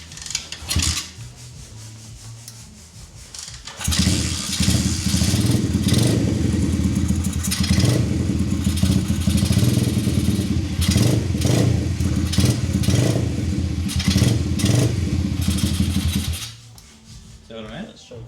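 A motorcycle engine is started with the choke on, catching and running at a steady, loud, rough idle for about twelve seconds before cutting out, with a raspy mechanical edge and brief voices before and after.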